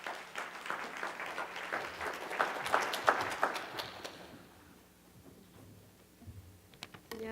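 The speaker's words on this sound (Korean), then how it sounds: "한번 격려의 박수 부탁드립니다" A church congregation claps in encouragement after a mission testimony, a moderate burst of applause that thins out and stops about halfway through, leaving a quiet room with a few small sounds.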